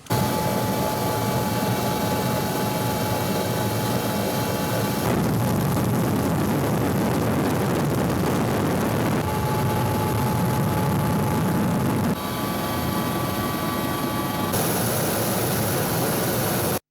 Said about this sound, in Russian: была дана команда запуска боевой машины вертолета Ми-24